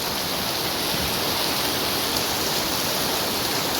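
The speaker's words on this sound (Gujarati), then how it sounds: "એવો વરસાદ પડે છે, આમ જોઈ લે" Heavy rain pours onto a Surat street in a dense, unbroken hiss, loud and close, with no pauses or individual drops standing out.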